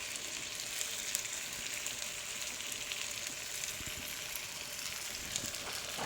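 Asparagus sautés with fresh garlic and shallots in a pan, a steady, faint hiss and crackle of sizzling that continues evenly throughout with no talk.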